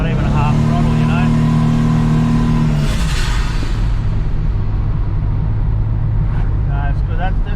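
Turbocharged car accelerating on boost at about half throttle on street radials, loud engine drone rising in pitch from inside the cabin, then easing off into a lower rumble.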